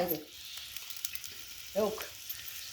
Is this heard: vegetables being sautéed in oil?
yes